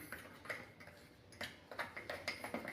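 Semolina cake batter being mixed with milk in a bowl, heard as a faint series of soft rhythmic ticks and clinks from a utensil against the bowl, close and quiet, with no one talking.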